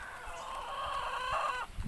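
Chickens cluck and murmur in a continuous, fairly quiet chorus, with a drawn-out call rising briefly near the end.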